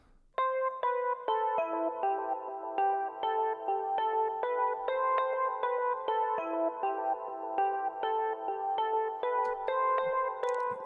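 The melody of a song played alone at 100 BPM, a clean bell-like synth line of short plucked notes in a steady repeating two-measure pattern, clear and isolated.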